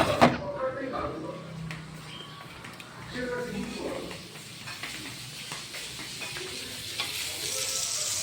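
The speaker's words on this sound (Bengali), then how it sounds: "কড়াইতেও ফ্রাই হচ্ছে, দুরকমভাবে করা হচ্ছে।" Food sizzles and hisses as it fries in a wok, with occasional stirring scrapes and voices talking quietly in the background.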